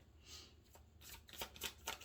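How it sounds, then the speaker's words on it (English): Soft, quiet oracle card shuffling: papery riffles and slides in a few quick bursts, close to the microphone, with no one speaking. "I already shuffled your cards."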